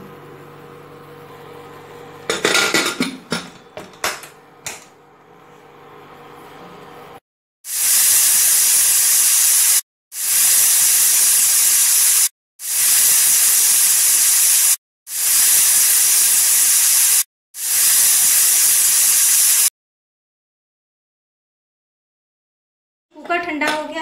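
A pressure cooker cooking tomato soup on high heat releases steam in five loud, sharp hissing whistles of about two seconds each, separated by brief pauses, after some earlier clattering in the kitchen.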